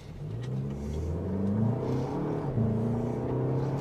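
A 2024 Toyota Grand Highlander accelerates, its engine note rising and dropping through several gear changes, heard steadily from inside the cabin with no talking.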